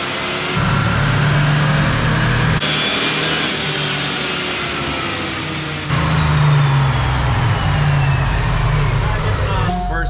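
A Chevy 454 big block V8 in an OBS pickup shop truck is loud and steady on a dyno pull, its roar held and then surging again with the revs, close and dominant throughout.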